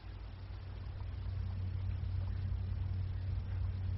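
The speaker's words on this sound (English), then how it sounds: "Engineer, starboard engine ahead." A submarine's starboard engine starting and running in a radio drama, a low steady mechanical rumble and hum that builds slightly and holds, muffled and continuous with no voices over it.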